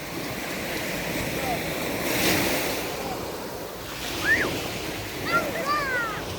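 Sea waves wash onto a beach in a soft, steady surf hiss, with a light breeze, faint distant voices and a couple of brief high bird-like calls near the end.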